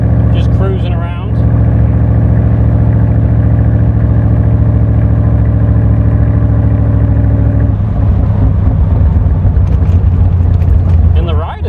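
A 1965 Superformance Cobra engine drones steadily in fourth gear at low revs, a loud, deep, even rumble throughout, with someone talking over it.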